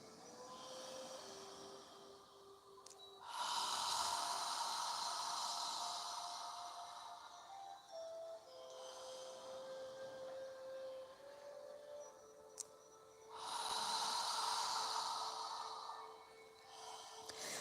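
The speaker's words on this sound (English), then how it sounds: "Try and fill your lungs completely with air and squeeze out all of the air on the exhale." A yoga practitioner takes slow, deep breaths, each full inhale and long exhale audible as a soft, airy rush through the nose and mouth, repeating in a steady rhythm with quiet pauses between breaths.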